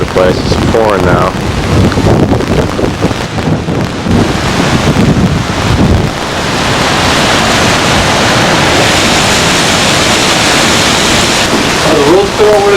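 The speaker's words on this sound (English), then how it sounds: "It's pouring now." Heavy rain pours steadily during a hurricane at a storm-damaged island hotel, with wind buffeting the microphone; a voice is heard early before the downpour settles into a loud, continuous hiss.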